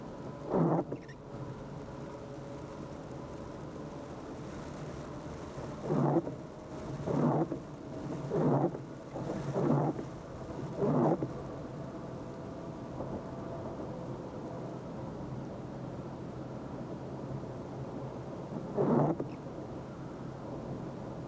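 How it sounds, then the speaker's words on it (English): Rain falls on a car driving through Hawaii on the H3 from Aiea to Waimanalo, with a series of low rumbling bursts clustered early and one more near the end over a constant road hum. "There's sun and there's rain at the same time."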